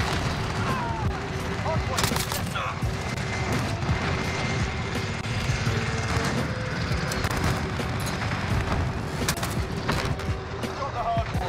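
A grenade blast and rattling gunfire in a Call of Duty Modern Warfare match play continuously and loudly, with repeated sharp shots over a dense battle rumble.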